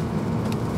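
Inside an Audi A1 1.4 TFSI Sport with an S tronic gearbox, the engine drones under strain as it revs, a steady low cabin rumble with no talk.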